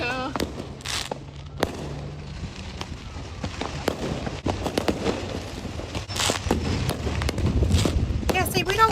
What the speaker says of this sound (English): if she uploaded 19 minutes of fireworks, I'd have watched every minute of it